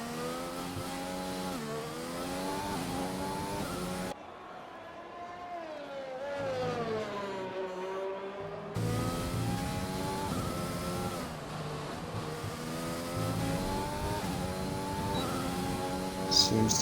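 A Mercedes Formula 1 car races in a video game at the Italian Grand Prix, its high engine whine climbing and dropping with repeated gear shifts and revs. The sound is loud and continuous, and no one talks over it.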